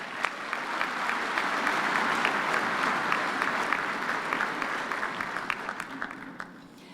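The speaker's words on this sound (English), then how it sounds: "please give them another round of applause" Applause from the audience at a university graduation ceremony, sustained and even clapping in a large hall that gradually thins out toward the end.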